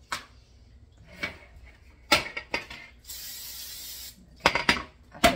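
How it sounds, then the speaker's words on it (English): A short hissing burst of cooking spray onto a tartlet pan lasting about a second, surrounded by sharp clicks and clatters of handling nearby. "I gotta spray the pan."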